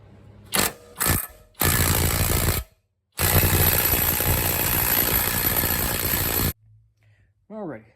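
A Bauer corded impact wrench removing a Mazdaspeed 6 rear axle, with loud close-up hammering bursts: two short hits, a longer rattling run, a pause, then a sustained stretch of impacts, ending with a brief voice.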